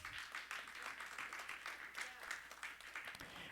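Distant, faint applause from a church congregation clapping for the Lord during a sermon, a steady wash of many hands kept low under the room ambience.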